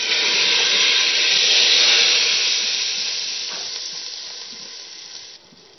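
Hot oil tempering with Kashmiri chili is poured over pakora kadhi and sizzles loudly, a steady hissing fry from the start that slowly fades over several seconds, with no talk.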